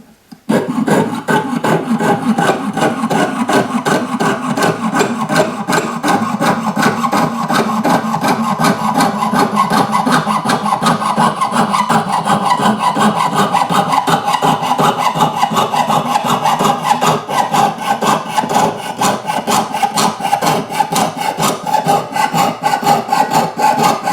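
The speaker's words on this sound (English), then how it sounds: "I'm going to be sawing these." Rapid, regular back-and-forth strokes of a hand saw cutting metal for a cuff bracelet, close and loud, continuing without a break.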